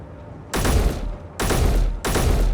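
Heavy gunfire in the space game Space Engineers, three loud booming bursts with deep low-end rumble, each cutting in abruptly and sustaining briefly before the next.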